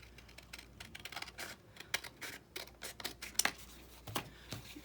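Scissors trimming a paper strip for a junk journal, quiet crisp snips and paper rustles in an uneven rapid series, close and soft.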